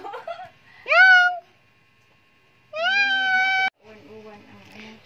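A cat meows twice, clearly and fairly close, with a quiet outdoor setting and soft background voices between the calls.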